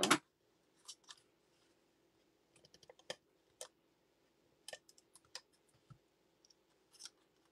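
Scissors snip paper at an angle while a card is being made, giving quiet, sharp, isolated cuts and clicks scattered irregularly over a near-silent background.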